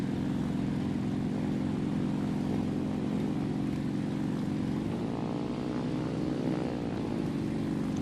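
A simulated bomber's propeller engine drones steadily in a flight simulator game. The pitch and harmonics shift noticeably partway through as the engine is restarted, and the loud, continuous hum is heard alone.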